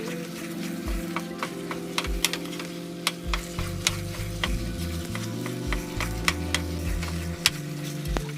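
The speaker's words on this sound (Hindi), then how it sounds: "हलवे में मुसलसल चम्मच चलाते रहना है ताकि हलवा नीचे ना लगे।" A spoon stirs makhandi halwa in a steel wok, scraping and clicking against the metal in a steady rhythm while ghee sizzles softly underneath, close and continuous with no talking.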